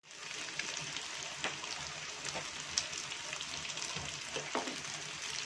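Pieces of tofu fry in a pan for adobong kangkong, giving a soft, steady sizzle with faint crackles and occasional stirring, heard close but quiet and without talking.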